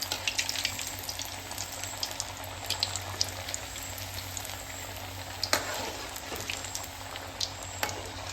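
Soya bean cutlets fry in oil in a pan, giving a steady close sizzle with crackling pops and a few sharper spatters throughout, with no one talking.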